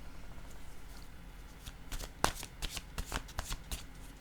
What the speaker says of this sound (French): Je vais piger maintenant une carte.